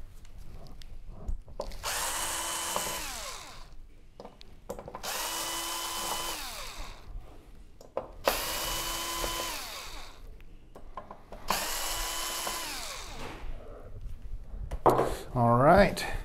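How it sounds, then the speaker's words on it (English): A power drill backs four screws out of a board inside a Samsung UN65JS9000F television, giving four separate whirring bursts that rise and fall in pitch, each a couple of seconds long, close and loud. "we're gonna get these four screws out"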